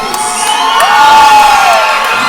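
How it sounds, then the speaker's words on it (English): A loud crowd at a cage-fighting event roars and cheers as a fighter walks to the cage, with sustained shouting and whoops swelling in the middle of the stretch. "Big pop from the crowd."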